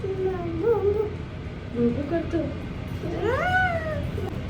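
A voice imitates a cat, giving three drawn-out meows with gliding pitch; the last is the loudest and longest, over a low background hum.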